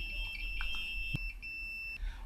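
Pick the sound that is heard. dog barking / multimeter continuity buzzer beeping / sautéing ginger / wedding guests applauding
multimeter continuity buzzer beeping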